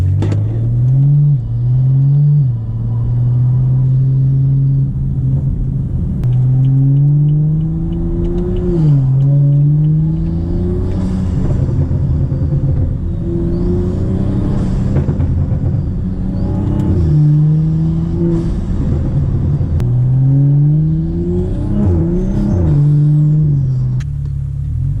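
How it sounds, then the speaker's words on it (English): A BMW F30 335i fitted with a BMS Elite Performance intake revs repeatedly with a loud, droning engine tone rising and falling. Whooshing releases like a blow-off valve follow each rev, with no talking over it. "Definitely sounds like a blow-off valve."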